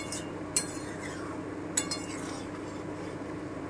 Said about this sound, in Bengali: একটু নেড়ে দিলাম।